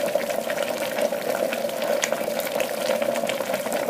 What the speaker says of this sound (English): Now listen to the noise the kettle makes.